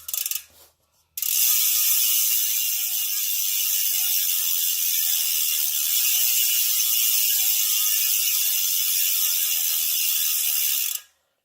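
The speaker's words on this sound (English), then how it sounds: "Quite noisy with all those pawls in there." Chris King ISO bicycle rear hub with a wide 7-speed freehub spun freely, its many ratchet pawls producing a dense, loud, continuous buzzing click for about ten seconds after a brief start.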